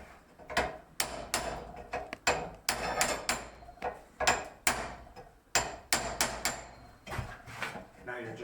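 A blacksmith hammers wrought iron held in a vise to form a shoulder, delivering a long run of sharp, ringing metallic blows at an uneven rhythm, some in quick pairs, close by.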